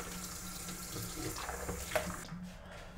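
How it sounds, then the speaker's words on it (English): Shaving soap lather rinsed off under a running tap, a steady, moderately quiet gush of water that carries for about two seconds before stopping, with no voices. "So we'll go ahead and rinse this off"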